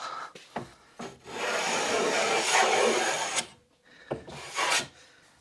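A hand tool carves a bevel along a length of wooden moulding, with short scraping strokes and knocks followed by one long, loud rasping pass, then a pause and a few more brief strokes, close up with no speech.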